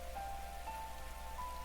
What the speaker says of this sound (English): Raindrops were pelting the rooftop all around me, producing a relentless rhythmic beat.